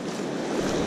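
Sea waves and wind on a beach during shore fishing, where the water has pulled far back: a steady, dense wash of surf and breeze roaring evenly with no voices.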